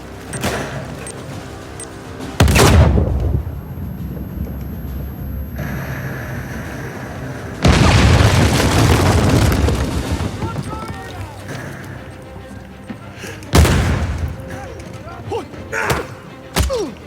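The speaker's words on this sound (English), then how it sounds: "Who's shooting me? From where?" Enemy gunfire aimed at the player in Uncharted 4, three loud separate bursts of shots and impacts over a low rumbling game soundscape.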